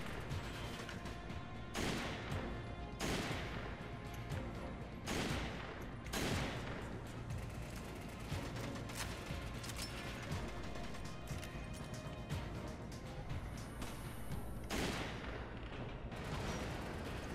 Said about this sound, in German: Ich sehe nicht, von wo die schießen.